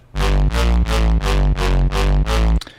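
A distorted halftime bass synth patch built in FM8 repeats six times in a steady rhythm, each hit a thick, loud, buzzing note with a rich low end, ending in a brief trailing crackle.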